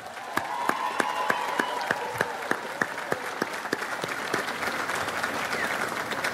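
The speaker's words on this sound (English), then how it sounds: "So let's give them a round of applause." Sustained audience applause for college faculty at a community college commencement ceremony, a dense, steady wash of many hands clapping in a large hall with a few sharper individual claps standing out.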